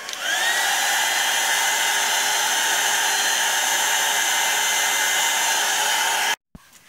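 A hair dryer blows on a watercolor painting with a loud, steady whir that starts at once, holds constant, then cuts off abruptly near the end.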